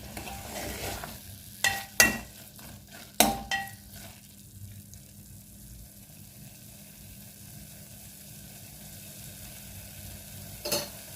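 Boiled carrots sauté in a little ghee for carrot halwa, with soft, steady sizzling throughout and several sharp clinks of a spoon stirring against the pan early on, quiet and close.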